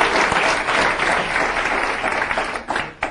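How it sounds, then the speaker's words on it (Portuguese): Audience applause closing a lecture on religious conflicts and fundamentalism, dense steady clapping from a hall crowd filling the whole stretch, slightly thinning near the end with a brief late burst. "depois dessa brilhante palestra, nós gostaríamos de aplaudi-lo"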